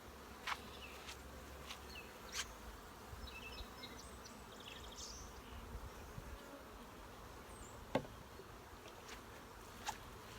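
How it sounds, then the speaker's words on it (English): Honey bees gathering water around a yard with wetlands nearby, a faint steady outdoor buzz with occasional louder insect passes close by, no voices. "So many bees right now are getting water"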